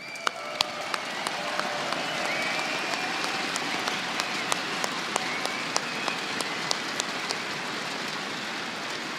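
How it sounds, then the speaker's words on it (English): Audience applause fills a CS:GO esports arena at the ESL One Cologne 2016 quarterfinals, a steady dense wash of clapping with sharp claps standing out, staying loud and even throughout. "I think that we should all clap for them now"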